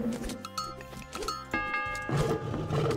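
Town bell rung in the strategy game Age of Mythology Retold, its bright tonal strikes sitting inside a busy mix of game music and battle effects.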